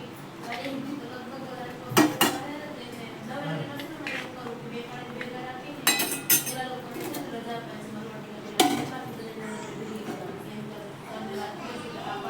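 Chickpeas are tipped into a pan while making chana chaat. Metal utensils clink against the cookware in a few sharp, scattered hits over soft kitchen background noise.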